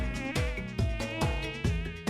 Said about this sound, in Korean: 아, 모기.